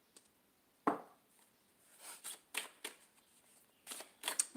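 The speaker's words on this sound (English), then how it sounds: "I'm just going to kind of shuffle with my decks here" Tarot card decks being shuffled by hand at close range, with scattered soft riffles and slaps in short bursts, quiet overall and without any talking.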